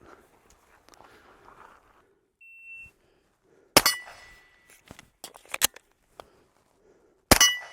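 A shot timer beeps, then a Mojave 9 pistol from Shooters Global with a pincer magazine release fires sharp, loud shots outdoors, with a quiet pause for a magazine reload before the final shot.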